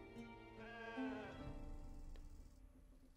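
A sheep bleats in the video game Wartales, a single wavering, drawn-out bleat heard up close over low background game ambience with no talking.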